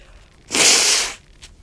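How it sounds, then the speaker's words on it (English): A single forceful nose blow, a loud hissing burst of about half a second, close to the mic, followed by a faint short sniff. "Let me blow my nose real quick."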